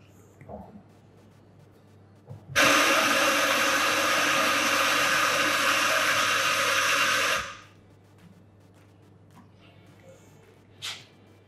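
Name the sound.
ECM Classika espresso machine brewing an espresso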